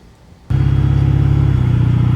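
An OBS Ford truck with a 7.3L diesel and a new BR472 turbo bursts into a loud, close, deep steady rumble after a brief quiet moment, the engine droning on evenly while driving.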